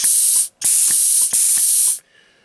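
A mechanical Halloween prop fires loud blasts of compressed air: two long, steady hissing sprays split by a brief gap, ending abruptly with a faint mechanical whine after.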